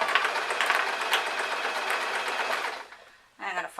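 A home sewing machine runs a zigzag stitch over fabric as part of making a baggy elastic-strapped top, with a steady loud whirring drone for nearly three seconds before it stops and a brief voice cuts in.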